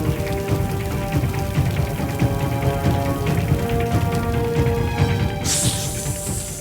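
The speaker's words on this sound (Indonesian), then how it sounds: "air hujan yang deras ini" Heavy rain pours down steadily and loudly as a dense, continuous hiss of drops, growing brighter and more intense for the final second.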